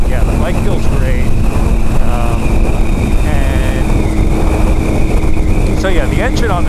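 A Triumph Tiger 800 ABS motorcycle engine drones steadily at close range beneath heavy wind rush while a rider talks over it throughout.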